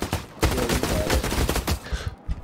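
Rapid, loud gunfire in the shooter The Cycle Frontier during a three-player firefight, dense overlapping bursts that fire almost continuously before trailing off into a few scattered shots.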